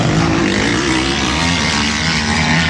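A motocross motorcycle accelerates during an MX4 category race in Agrestina, a loud continuous dense engine roar with a steady droning buzz, close and unbroken, without talk.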